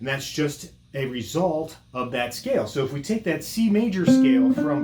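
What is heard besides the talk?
None of the usual background noises is heard.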